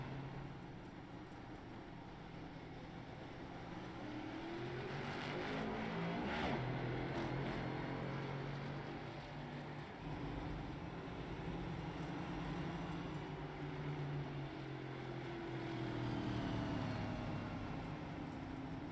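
Stock cars race at Dover in a sim racing league's USA Pro Cup event, a steady drone of many engines humming and shifting pitch as the pack passes, loud and continuous throughout with no talk.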